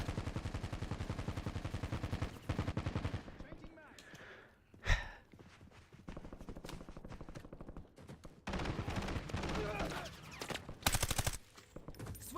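Bursts of gunfire in the Warzone video game, with rapid rattling volleys and sharp single shots coming in clusters. Near the middle the shooting drops to quieter gaps, then resumes loud toward the end.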